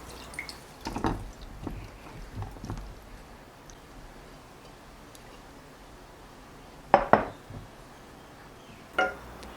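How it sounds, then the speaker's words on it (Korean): Brine from autumn radish salted for an hour drains through a sieve, a few sparse, faint drips and small splashes against a quiet background. "한시간 절인 물을 체에 받쳐줍니다."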